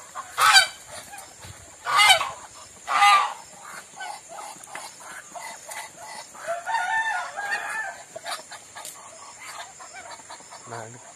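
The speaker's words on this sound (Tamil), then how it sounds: "அப்புறம் இங்க பாத்தீங்கன்னா வாத்தெல்லாம் இருக்கு" Ducks in a farm shed honking and quacking in loud repeated bursts near the listener, with softer scattered calls and background chatter between them.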